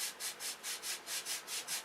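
Hand sanding of wood, close and fairly quiet, with about nine steady back-and-forth rubbing strokes in an even rhythm and no talking.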